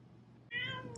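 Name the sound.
cat meowing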